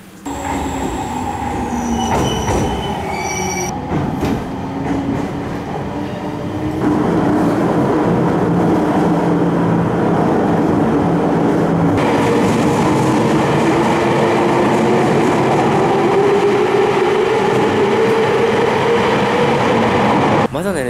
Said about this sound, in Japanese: 列車の音してますよ。